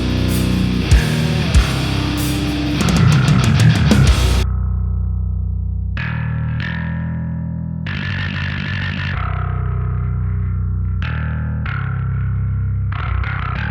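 Bass of the Gods, a Spartan Sound Studios VST bass, playing a soloed demo line with heavily distorted, effected tones, a dense busy stretch followed by separate sustained notes that swell and decay, loud and close with no talk.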